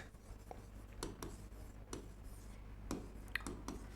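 Writing on a board during a physics lesson on density: faint, scattered scratchy ticks and short strokes at an irregular pace, quiet under a low room hum.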